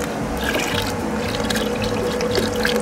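Water is poured into a container of spoiled milk, giving a continuous splashing, trickling fill with small drips throughout, close by and with no talking.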